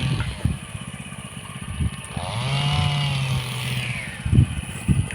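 A small cultivator engine revs and idles nearby with a rattling drone, rising in pitch midway, while people talk and clatter around it.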